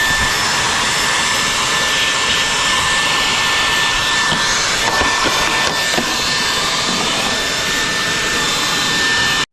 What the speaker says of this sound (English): I should just get the vacuum on that.